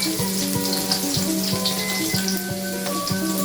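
Minced garlic and shrimp paste fry in a pan with a dense, steady sizzle close up, bubbling continuously without pause for a few seconds; no talking.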